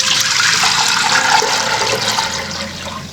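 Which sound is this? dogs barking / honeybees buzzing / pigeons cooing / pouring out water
pouring out water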